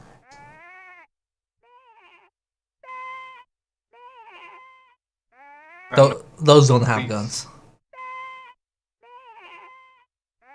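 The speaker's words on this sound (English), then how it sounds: "the sheep noises" Short bleating sheep calls from a PS1 video game demo repeat at a steady pace, clear and fairly close, with a burst of people talking over them partway through.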